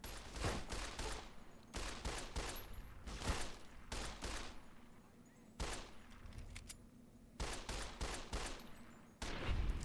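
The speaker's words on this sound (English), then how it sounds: "You're shooting with something high caliber anyway" Heavy, high-caliber gunfire in Fallout: New Vegas, repeated bursts of loud shots with rolling echoes spread across the clip, with gaps between volleys and a faint voice now and then.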